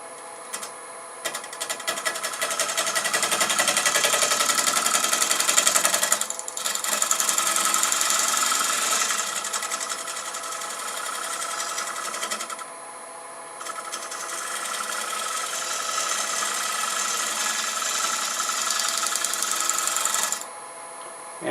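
A bowl scraper takes a light finishing cut on wood spinning on a lathe, giving a steady, close, buzzing hiss of fine shaving that runs in long stretches, broken by brief pauses as the tool is lifted.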